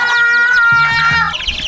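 Chicken clucking up close, a loud burst of rapid, repeated clucks filling the short moment with no voices.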